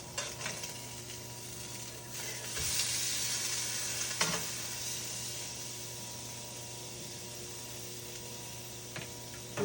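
A steak seasoned with everything bagel seasoning, just flipped, sizzles steadily in a hot pan. The frying hiss is close and continuous, with a few soft clicks and pops on top.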